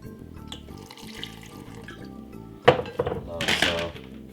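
Water runs into a smoothie blender holding a handful of spinach, a steady close pour with clinks and clatter of kitchenware that swell louder toward the end.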